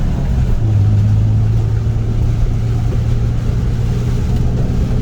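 BMW M Roadster with a manual gearbox making U-turns, a steady close engine drone with a low sustained tone rising slightly, continuous and fairly loud with no talk.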